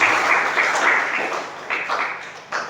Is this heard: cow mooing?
no